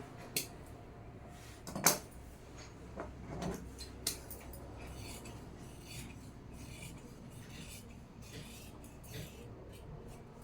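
Scissors cutting blouse fabric for a full-collar designer blouse, heard as faint intermittent snips and rasping rubs with one sharper crunch early on, quiet and close with no talking.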